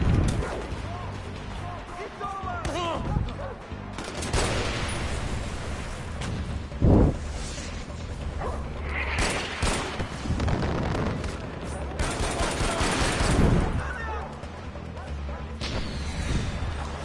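Sniper gunfire in the video game Far Cry 4, scattered heavy bangs and crashes, one sharp loud shot standing out near the middle, mixed with game noise and someone talking over it.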